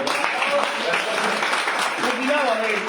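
Audience applause at a medical talk on diabetes by a surgeon, a steady wash of clapping from a crowd that runs the full length at fairly loud level, with some voices mixed in.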